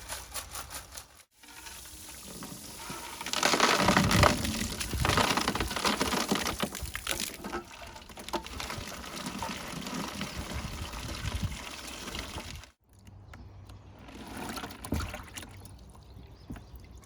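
Water sloshes and rattles hard inside a rusted gas tank from a Briggs engine as it is shaken vigorously, a loud, continuous churning splash with brief pauses, no talking.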